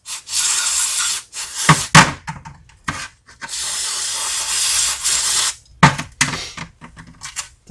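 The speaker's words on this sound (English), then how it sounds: "Stick it in through the low speed circuit, the primer circuit, and just give it an overall spray" Aerosol carburetor cleaner hisses in repeated bursts onto the carburetor of a 44-year-old Toro 421 snow blower, several long and short sprays separated by brief pauses and small handling knocks, close and fairly loud.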